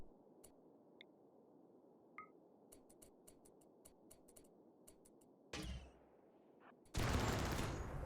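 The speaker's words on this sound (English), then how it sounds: "this is what happens when you light the ammo on fire" Ammunition set on fire cooks off in the Rimworld game with the Combat Extended mod: scattered sharp ticking pops over a quiet hiss, then two louder, denser bursts of crackling near the end.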